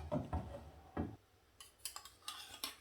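A pan goes onto a stove for sweet potato pancakes, giving a few soft metallic clanks and knocks, then lighter clicks, in a quiet kitchen.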